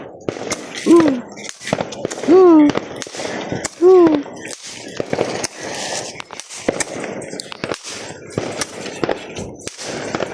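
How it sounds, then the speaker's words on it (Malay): Sharp firecracker pops go off at irregular intervals, some with short rising whistles, echoing outdoors. "Abang Lokman main mercun."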